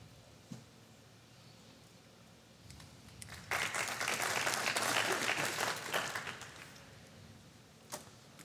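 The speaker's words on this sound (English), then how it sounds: "The applause tells us the shot is on" Applause from spectators at a professional pool match, the 2018 World Pool Masters, rising suddenly after a quiet stretch into a loud, full burst of clapping that holds for a few seconds and then fades back to near silence.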